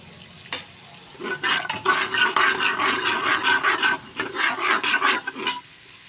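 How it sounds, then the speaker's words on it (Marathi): Cumin seeds hit hot butter in a pressure cooker for pav bhaji, bursting into a close, loud crackling sizzle that comes in uneven surges of spitting and popping before dying down. "आपलं बटर हे तापलं आहे तर त्याच्यामध्ये मी हे जिरं घालणार आहे"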